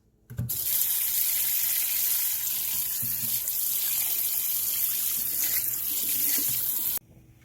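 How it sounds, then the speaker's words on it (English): Steady rush of running water from a tap rinsing pork ribs, splashing continuously for several seconds before cutting off abruptly. "Now we're going to wash the ribs."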